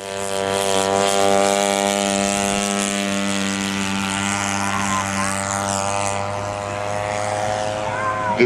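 A P-47 propeller fighter flies in a flight simulator game, its piston engine and airscrew giving a loud, steady, close droning hum that holds evenly throughout.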